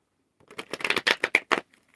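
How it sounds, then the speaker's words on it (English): A deck of tarot cards gets a short series of crisp, close shuffling snaps, about a dozen quick taps spaced irregularly over a second and a half, then silence. "For the collective, I'm gonna shuffle these real quick."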